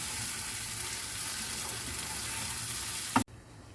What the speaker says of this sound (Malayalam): നല്ലവണ്ണം ഒന്ന് ഇളക്കി അടച്ചു വെച്ച് വേവിക്കാം